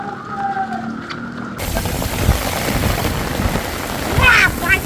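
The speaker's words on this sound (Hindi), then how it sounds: "बारिश स्टार्ट हो गई भाई।" Night rain, the first of the season, starts suddenly and then patters steadily as a dense hiss close by, with a few louder drops and knocks on surfaces.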